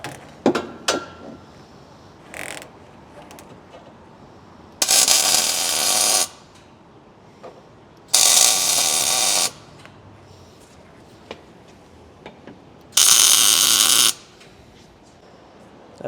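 Tack welding on tubular rear-end tubing for an E36 drift car in a competition build: three loud, steady crackling bursts of about a second each, with quiet workshop clatter between them and no voices.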